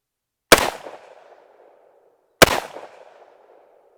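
A Tommybuilt T7 MP7 clone, freshly lubricated and firing from a 50-round box, fires two sharp single shots about two seconds apart, each followed by a short echoing decay. Silence surrounds them and no one talks.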